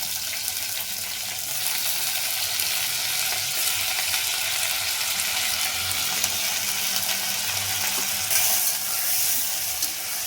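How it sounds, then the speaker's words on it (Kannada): Three cut, washed potatoes fry in a pan and are stirred, giving a loud, steady sizzle with a close hiss that runs unbroken for about ten seconds, with occasional scraping from the stirring. "ಚೆನ್ನಾಗಿ ಇದನ್ನು ಮಿಕ್ಸ್ ಮಾಡ್ಕೋಬೇಕು, ಚೆನ್ನಾಗಿ ಫ್ರೈ ಆಗಬೇಕು ಇದನ್ನು ಕೂಡ"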